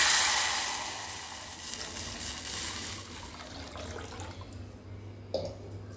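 Water is poured into a pan holding a tempering of cumin, curry leaves and red chili powder, starting with a loud rushing splash and hiss that fades into a softer simmer with a small clink near the end.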